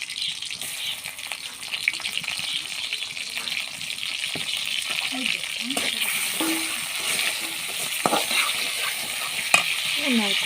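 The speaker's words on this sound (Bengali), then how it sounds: "চিংড়ি মাছটাকে ভেজে নিই" Shrimp frying in a pan give a constant crackling sizzle with scattered sharp pops and a few metallic scrapes of a utensil, heard close up and with no speech.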